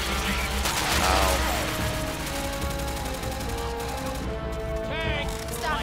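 Dense Left 4 Dead 2 gunfire, rapid machine-gun bursts and heavy shots rattling continuously at close range, with game voices shouting over the shooting.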